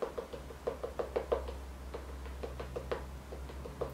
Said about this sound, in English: That's the sound of a sponge I don't really love.